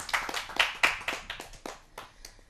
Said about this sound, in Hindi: आइए जोरदार तालियों से आमंत्रित करते हैं।